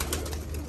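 Racing pigeons coo from a loft, a short low throaty coo repeated close by with no voices.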